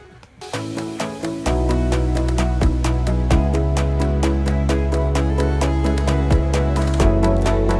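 A buzzy, distorted synthetic lead with a pitch-corrected vocal quality plays a melody over a steady electronic beat, drenched in reverb.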